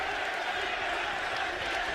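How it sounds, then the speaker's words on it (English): Wrestling crowd in an arena roaring and cheering after a big move in a women's match at Lockdown 2008, a continuous dense wash of voices. "The crowd goes nuts on that great move for Gail Kim"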